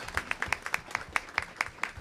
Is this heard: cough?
no